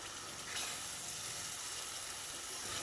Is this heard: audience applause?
no